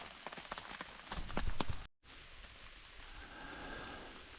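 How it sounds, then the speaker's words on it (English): Rain falls steadily over a campsite, a dense broadband patter. A few sharp knocks and thumps come early on, then a brief dropout, and the hiss continues alone at a moderate, close level. "It's still raining."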